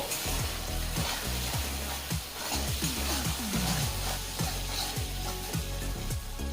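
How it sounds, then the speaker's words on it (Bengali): Salt and turmeric spices sizzling and frying in hot oil for a bitter gourd dish, a steady crackling hiss with repeated stirring scrapes throughout, close and continuous with no talking. "এবারে এগুলো সব তেলে ভালোভাবে কষিয়ে নেব"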